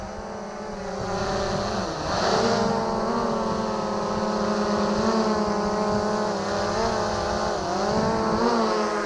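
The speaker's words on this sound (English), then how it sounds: "Take the weight of the machine, semi-immobilize the motors" Motors of a DJI Mavic 2 drone whine steadily at close range during a hand landing, with stacked high-pitched tonal harmonics that rise and dip slightly as the craft is held; no talking.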